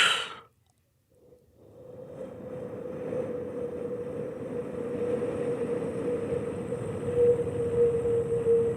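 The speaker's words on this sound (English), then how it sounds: "So wind sounds like this." A wind sound effect for a film: after a short breath and a pause, a sustained whooshing drone with a steady hollow tone builds and holds, close and fairly loud, with no talking.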